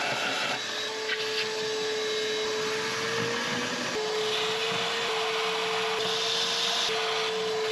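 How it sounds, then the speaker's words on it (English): A vacuum cleaner drones steadily as it sucks up coolant and debris from the engine valley of a BMW X5 E70 with the 4.8i N62 V8, close and loud with a constant whine and occasional gurgling slurps. "I'm gonna vacuum up all the coolant and all the debris that's over there"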